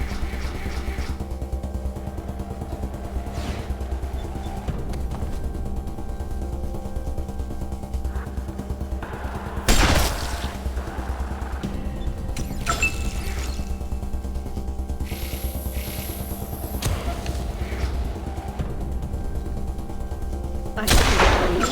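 Sharp gunshots crack out in Wasteland 2 over a constant low droning backdrop. A loud blast lands near the middle, with another burst at the very end and a few scattered lighter impacts between them.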